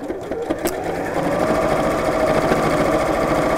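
A sewing machine runs steadily, stitching fabric with a quarter-inch seam allowance all the way around the edge of a pin cushion, a continuous close mechanical whir that swells slightly after the first second.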